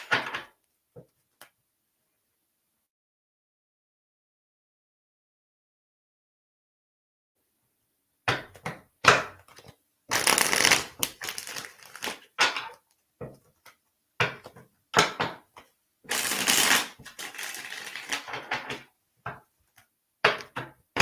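Tarot cards shuffled by hand, a run of crisp riffling and snapping bursts with short pauses, loud and close after a long silence.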